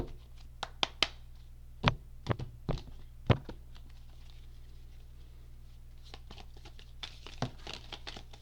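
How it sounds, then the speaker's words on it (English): A deck of tarot cards being shuffled by hand, giving scattered soft riffles, taps and thunks in irregular bursts over a low steady hum, close up with no voices. "I'm going to just shuffle this deck a couple of more times"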